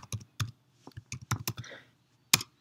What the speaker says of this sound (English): So let's type building